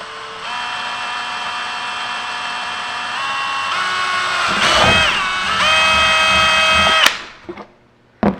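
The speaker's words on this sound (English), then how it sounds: "I hate drilling plastic." A power drill boring through a plastic rally windscreen fairing, with a steady whine that shifts pitch as the bit bites and grinds, then cuts off abruptly with a couple of short clicks afterward.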